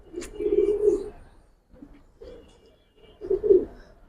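Silver and bagha pigeons coo in a quiet space, giving three soft, throaty coo phrases with short pauses between them, close and alone with no talk.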